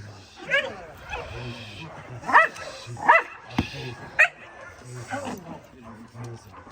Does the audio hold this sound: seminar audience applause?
no